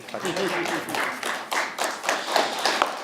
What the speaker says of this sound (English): You clap now.